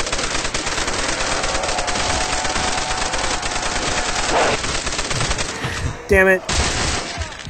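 Rapid automatic gunfire from a Call of Duty custom zombies map, a dense continuous rattle that runs for several seconds, then short bursts after a brief pause, with a man briefly cursing over it.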